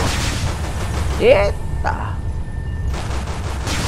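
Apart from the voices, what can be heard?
gunfire in EverSpace space combat video game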